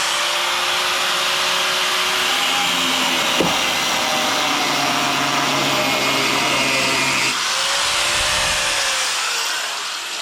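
Cutoff wheel grinding through a sway bar link bolt during a car suspension repair: a loud, continuous high-pitched whine and rasp, briefly changing pitch midway, then tapering off at the end.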